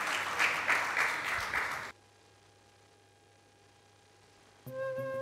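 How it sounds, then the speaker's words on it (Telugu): A church congregation claps at a Sunday service, a loud burst of applause for about two seconds that cuts off abruptly into near silence, followed at the end by a brief tonal musical sound. "చప్పట్లు కూడా దేవుని స్తోత్రాలు చెల్లిద్దాం"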